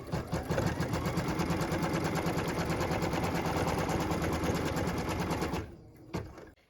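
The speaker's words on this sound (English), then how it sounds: "what we're stitching now is the bottom of the body placement line" A sewing machine hums and clatters in a fast, even run for about five and a half seconds while stitching a placement line on fabric, then stops abruptly with a faint click or two afterward.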